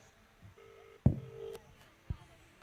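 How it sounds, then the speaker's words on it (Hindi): A phone call rings out through a speakerphone at a prayer ministry gathering, giving two short steady tones separated by sharp knocks and thumps, fairly quiet overall. "देखो बेल जा रही है।"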